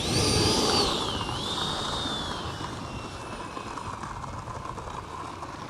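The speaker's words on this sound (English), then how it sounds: "lined up on the runway, taking off with the Rafale" A model Rafale jet plane takes off from a runway, a loud whining turbine with a high pitch that falls, then a steady roar that slowly fades, with no voices.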